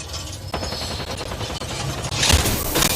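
Gunfire in the battle royale game Apex Legends, a dense stream of rapid shots and mechanical clatter with a louder burst of nearby fire near the end.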